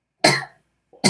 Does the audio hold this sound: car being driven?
no